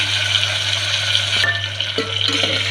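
Tomatoes and cumin fry in a pan while chillies cook, giving a steady close sizzle with light stirring and clinking, and a constant low hum underneath. No one speaks.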